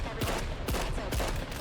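Gun in the video game Killing Floor 3 firing rapidly, four or five sharp shots at an even, locked rhythm in quick succession, loud and close.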